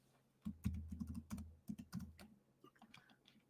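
Fast bursts of clicking keystrokes on a computer keyboard, close and crisp, with a brief pause midway and lighter taps trailing off at the end.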